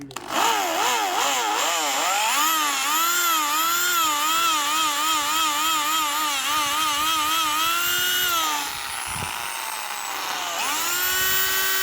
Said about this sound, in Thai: เราก็จะใช้หัวสว่าน